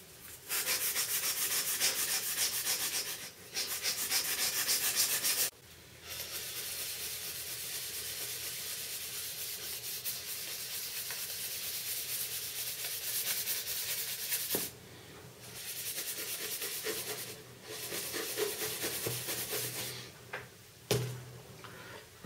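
Ganzo G707 knife blade being sharpened on 280-grit sandpaper, repeated raspy rubbing strokes in bursts separated by short pauses, close and fairly quiet with no talk.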